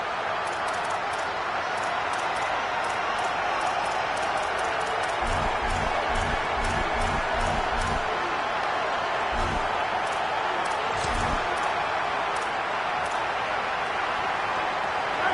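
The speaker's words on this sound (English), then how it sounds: "This crowd ready to make its presence known." A football stadium crowd at a Florida game makes a continuous, dense roar of cheering and noise throughout, with some low thumping beats partway through.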